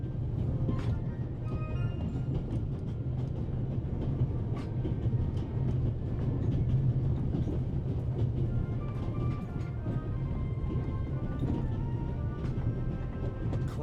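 A moving steam train with a coal car in the video game The Raven rumbles steadily and close by, a dense, low rolling drone with continuous metallic rattles and clicks on top.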